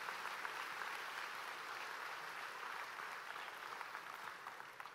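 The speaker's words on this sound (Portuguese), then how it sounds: "Pode aplaudir o Senhor." A church congregation applauds after hearing of a couple's wedding, a steady wash of clapping from many hands, even and sustained throughout, with no voices on top.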